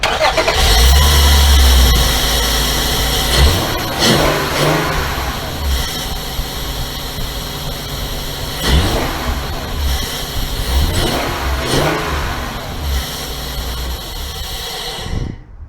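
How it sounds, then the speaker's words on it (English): A 2003-2006 Honda Pilot engine fitted with a short ram intake cranks and catches, then idles and revs in several rising surges, loud and close, with no talk. "Actually, I turned the engine over and it sounds amazing. In fact, let me just turn it over again."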